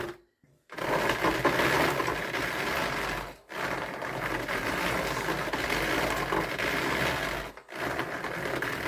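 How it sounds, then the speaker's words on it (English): A hand-cranked or drum wool carder laboring as raw sheep fleece is fed through, giving a steady mechanical whirring and ratcheting clatter that runs continuously with two brief pauses. "As you can hear, my carder is barely working to put this fleece through"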